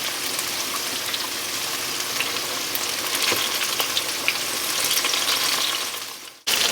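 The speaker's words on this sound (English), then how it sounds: "our bananas are frying up, and we're just getting out the last batch of this fish" Bananas deep frying in hot oil alongside batches of catfish, a steady dense crackling sizzle that holds close and loud throughout, with no talk, before cutting off abruptly near the end.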